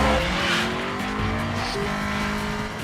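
A Mitsubishi Evo in a video game skids while speeding in reverse, with loud sustained tire squeal over a roaring engine, close and continuous.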